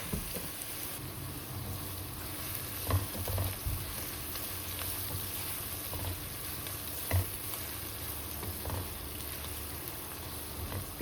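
Onions frying in a little oil in a pan while cooking a katla fish curry, a steady close sizzle and crackle with a few louder pops and stirring scrapes throughout.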